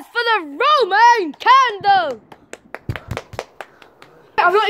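A small group at a backyard firework show gives a short burst of scattered claps after a Roman candle goes off. Excited voices and cheering come before the claps and start again right after them.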